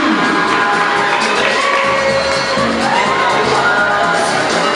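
A crowd at a Form Six graduation at Eloni Secondary School cheers for a student, with steady loud clapping mixed with shouts and high whoops, packed and close.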